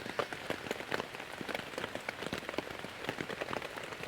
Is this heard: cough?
no